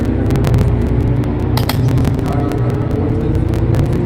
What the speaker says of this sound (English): This car is the worst sounding engine in the game.